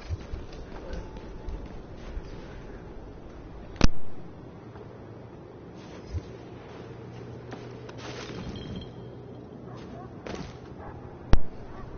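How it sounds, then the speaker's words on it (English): Weapon-test gunfire in The Division, with a few sharp, widely spaced shots cracking out over a steady bed of in-game ambience and music. "Weapon test initialized. Open fire at the highlighted targets."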